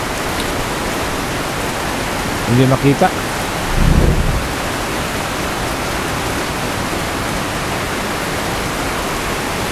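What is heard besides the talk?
rain pattering on a roof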